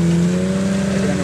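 Ranger utility vehicle stuck with its wheels spinning, the engine holding a loud, steady high rev with a droning tonal whine throughout the brief moment, close and continuous.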